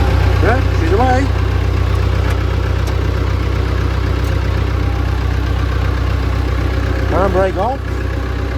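A Massey Ferguson 168 tractor engine idles steadily close by on a farm, a continuous low diesel rumble throughout, with brief bird-like chirps near the start and end.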